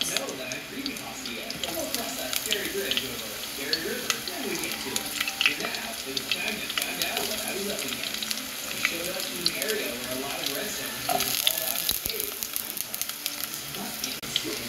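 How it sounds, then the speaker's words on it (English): Onions fry in a little oil in a pan, giving a steady, close crackling sizzle that runs unbroken for the whole stretch with no clear voices. "Now I just fry until turns brown and smell good"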